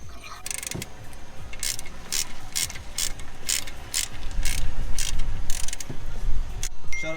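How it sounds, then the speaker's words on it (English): Brake caliper piston being compressed with a tool while fitting EBC brake pads on a MK7.5 Volkswagen GTI, heard as a close series of regular ratcheting clicks over a low mechanical grind. "We're compressing the piston."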